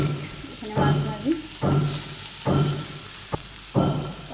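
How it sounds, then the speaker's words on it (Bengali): Fish frying in a pan of hot oil in a Bangladeshi village kitchen makes loud bursts of sizzle that recur every second or so between quieter spells, with a sharp clack partway through. "মাছ দিয়ে দিই, এখানে মাছ ভাজি"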